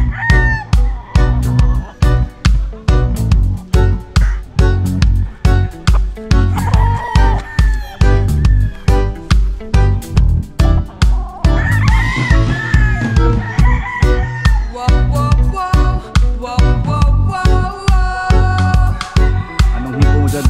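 Several roosters crow loudly over one another while chickens cluck, with sharp repeated bursts throughout and no one speaking.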